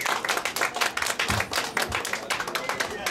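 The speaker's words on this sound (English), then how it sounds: "ladies and gentlemen, a round of applause for Mr." A small crowd claps for magician Dixie Dooley at a Las Vegas proclamation ceremony, the brisk uneven claps sounding close, with voices talking over them.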